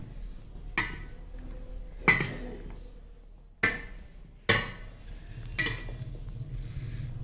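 A spoon stirs jackfruit pickle in a pot with about five sharp metallic knocks against the pot, spaced a second or so apart, over a quiet low background.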